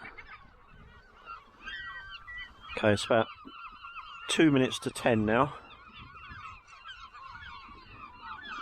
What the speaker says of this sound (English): Birds are still making a racket.